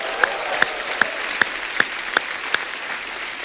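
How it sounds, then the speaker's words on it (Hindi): A small studio audience at a comedy talk show claps in a steady, even burst with a few sharper slaps standing out, fairly close and continuous for a few seconds. "और एक बार तालियां और बनती है"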